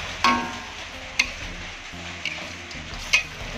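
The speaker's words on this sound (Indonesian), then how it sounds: "Kita aduk kembali" Tongkol tuna being stirred in green chili sauce in a pan outdoors, a few sharp scraping clinks over a steady low simmer with rain-like background noise.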